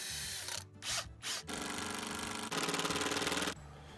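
A power drill drives screws into deck boards in a few short bursts and then longer steady whirring runs, close and loud, with the pitch shifting as each screw seats.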